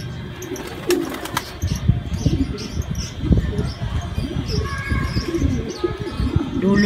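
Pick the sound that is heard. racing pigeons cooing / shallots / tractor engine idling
racing pigeons cooing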